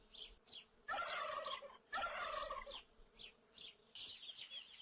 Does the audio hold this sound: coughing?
no